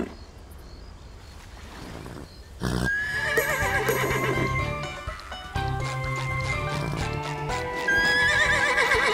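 A seahorse mount in the SpongeBob: The Cosmic Shake video game neighs loudly several times with clip-clopping hooves over game music, close and clear after a quieter opening.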